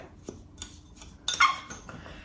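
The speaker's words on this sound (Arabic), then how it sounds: "رح احركهم شوي لحتى يذوب السكر" A metal spoon stirring sugar in a bowl of a coconut mixture, several light scraping clinks and taps against the bowl with a brighter scrape midway, close and clear, no voices.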